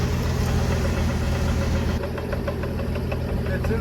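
A 1974 Ford F-250 Ranger SuperCab with a driveline clunk runs steadily, its engine droning loud and close throughout. The drone lightens about halfway, and faint repeated knocks come through.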